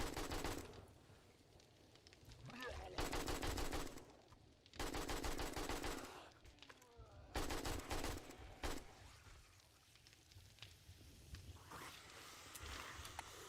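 Bursts of automatic gunfire in the survival video game 7 Days to Die, several sustained rattling volleys separated by brief lulls with scattered single shots, loud and close.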